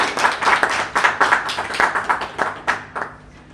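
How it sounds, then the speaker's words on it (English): An audience at a book event in Ranchi with author Mihir Vatsa gives a round of clapping: distinct, fairly rhythmic hand claps, close and lively, tapering off toward the end. "A big round of clap for the amazing audience of Ranchi."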